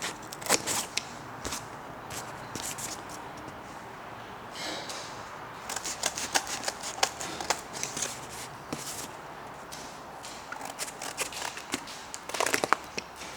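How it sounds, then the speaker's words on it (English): Snips cut sheet metal for a 1932 Ford roadster hot rod rebuild, with irregular crisp clicks and crunches in bursts, loud and close, and no talking. "Just getting the old snippers"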